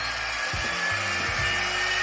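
A steady, loud rush of blowing air from a GHD Duet hot air styler runs throughout, with a few low thumps and rubbing noises underneath.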